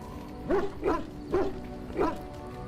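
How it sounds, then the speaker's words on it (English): A dog barks indoors in a home: four distinct, fairly loud barks spaced about half a second apart, with no one talking over them. "Unfortunately, that's Cinder who's barking."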